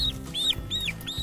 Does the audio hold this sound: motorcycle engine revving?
no